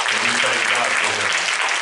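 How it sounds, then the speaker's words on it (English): A church congregation applauding at a Sunday service, a steady wash of clapping hands filling the room without a break. "You ought to clap your hands for him."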